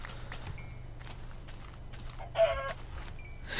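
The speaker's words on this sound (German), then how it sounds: "es sind ganz schön viele Hühner" Chickens in the video game Minecraft cluck in short, repeated bursts over a low constant game hum, with a few scattered clicks and one louder squawk near the end.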